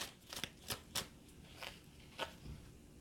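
Tarot cards are shuffled in a few short, crisp riffling bursts spaced irregularly, faint and close with no talking.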